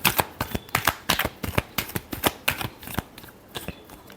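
Tarot cards being shuffled by hand during a reading, a quick series of crisp, papery riffles and slaps in an uneven rhythm, close and fairly loud, without speech.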